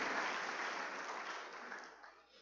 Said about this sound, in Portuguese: se você entendeu, aplauda ao Senhor